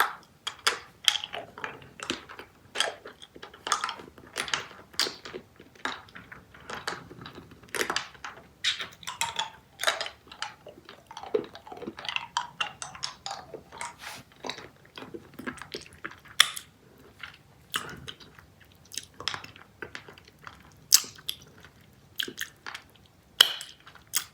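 Close, crisp crunching and chewing of Charms Valentine lollipop hard candy, sharp cracks and bites scattered irregularly over a quiet background with soft mouth sounds between them and no talking.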